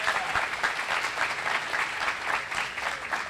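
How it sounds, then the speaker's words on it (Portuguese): A church congregation claps in welcome, a continuous, fairly close burst of many hands applauding at a steady level for the whole stretch. "palmas"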